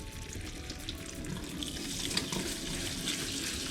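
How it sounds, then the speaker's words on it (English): Rice being washed in water at a sink for homemade Filipino champorado, a steady running-water and sloshing wash that stays close and continuous throughout, with no talking. "so I'm going to wash the rice"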